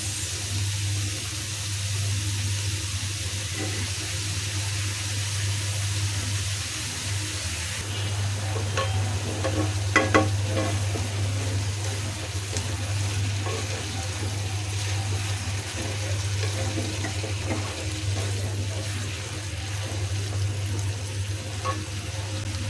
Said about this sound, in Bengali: দিয়ে দিলাম চিংড়ি মাছ